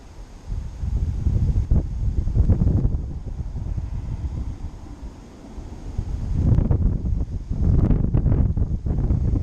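Gusty wind blusters across the microphone of a flying drone in loud, uneven rushes, easing briefly in the middle before picking up again.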